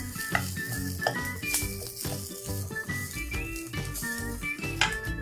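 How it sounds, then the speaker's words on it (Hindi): Cumin and fennel seeds frying in ghee or oil in a pan, a steady close sizzle and crackle with light stirring and occasional rattles over busy background music. "लीजिए 1 चम्मच घी या तेल, इसमें डालेंगे हम 1 चम्मच जीरा और 1 चम्मच सौंफ"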